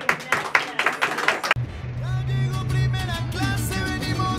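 Scattered audience clapping for a mariachi band at a birthday celebration rattles briefly, then gives way to a steady sustained tone with voices over it.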